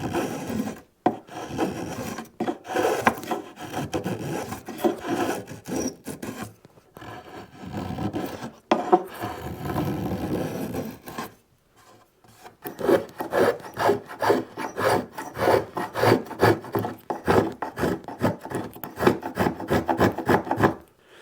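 A waxed spokeshave shaves wood from a thinline bass guitar body in repeated quick rasping strokes. The close, steady rhythm pauses briefly, then resumes faster and denser.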